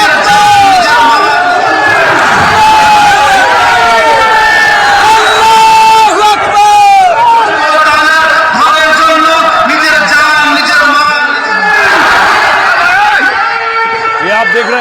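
A large, dense crowd roars and chatters continuously at an outdoor political rally in Murshidabad, West Bengal, with rising cheers and shouts swelling over the steady babble throughout.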